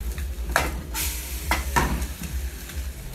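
Egg frying in a pan, a continuous low sizzle broken by several sharp scraping strokes of a utensil against the pan, close and moderately loud, with no talking.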